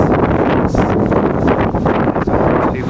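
Strong gusty wind roars across a Yorkshire garden, buffeting the microphone in a loud, continuous rush with surging gusts and rustling.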